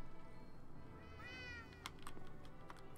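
Glowing radioactive ray cats from a Minecraft modpack meow in a rising, wavering cry, followed by a few short clicks, heard alone over a steady low background hum.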